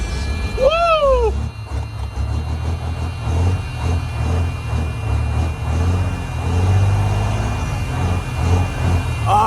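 A Detroit 60 Series diesel engine runs in a Freightliner Classic XL truck, a steady, loud, low idle rumble close by that continues throughout, with a brief high chirp near the start.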